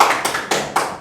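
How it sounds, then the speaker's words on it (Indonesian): Four or five sharp, evenly spaced hand claps in a podcast studio, close and fairly loud, each a crisp broadband burst with a short decay and no voices. "Boleh tepuk tangan dulu gak sih?"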